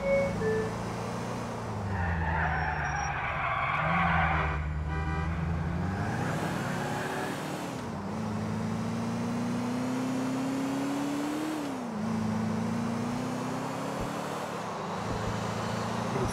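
A car in Grand Theft Auto IV weaves through traffic, its engine droning and swelling through several gear changes and accelerations, with scattered road and traffic noise and faint talk early on.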